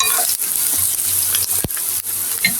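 Garlic and onion frying lightly in a pan give a steady, close sizzle throughout, with a few brief stirring scrapes and a short knock near the middle.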